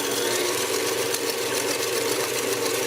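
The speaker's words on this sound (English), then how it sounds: "Love my KitchenAid mixer." A KitchenAid stand mixer creams sugar in a steady, loud motor whir with a faint rattle, running without a break.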